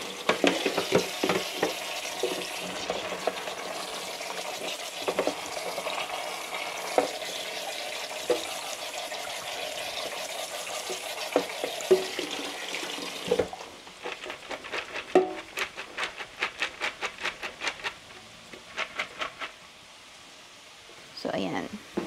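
Bean sprouts being rinsed in water with carrots and beans nearby, a steady wash of splashing for about thirteen seconds, then quieter intermittent clicks and handling taps.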